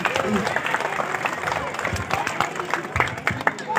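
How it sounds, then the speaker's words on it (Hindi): Loud, fairly close applause from a school gathering for a teacher, irregular sharp claps bunched together, with talk mixed in. "जोरदार तालियां सर के लिए, जोरदार तालियां होनी।"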